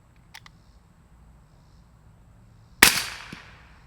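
A suppressed 8.6 Blackout rifle firing subsonic rounds, a Wolfpack Armory Disruptor 36L, gives a single sharp crack followed by a short decaying tail, preceded by faint mechanical clicks and near-quiet.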